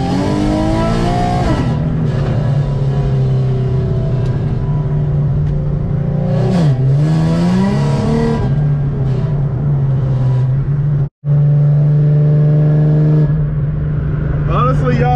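Loud engine of an Infiniti G37 heard from inside the car, holding a steady drone that rises through revs as it accelerates, with a short gap before it picks up again; a voice talks briefly over it.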